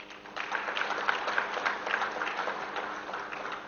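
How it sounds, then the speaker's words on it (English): Applause from an audience at an education festival, a steady wash of clapping rising shortly after the start and continuing at moderate, slightly distant level. "And that requires, I would say, a big applause."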